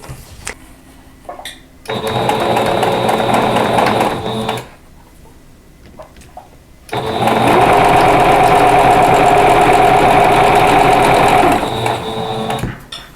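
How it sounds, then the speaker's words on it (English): A sewing machine stitches two quilt block pieces together for a tulip block, whirring in two bursts: a short run of about three seconds, a pause, then a longer, louder stretch of steady stitching. "So we're going to go ahead and sew these."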